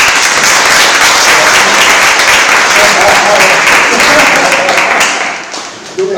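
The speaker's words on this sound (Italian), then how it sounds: "Un applauso per lui." An audience claps loudly and steadily for about five seconds, then the applause thins out and fades toward the end.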